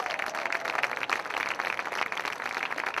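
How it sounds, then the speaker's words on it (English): A crowd at a polo match, the Queen's Cup final, gives sustained applause, dense and fairly near, with uneven swells of clapping throughout. "A big hand of applause for Facundo Perez!"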